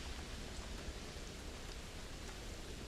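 Pouring rain in a thunderstorm over a sandy desert in the video game Starfield makes a dense, steady hiss, with a faint low rumble underneath and no voices.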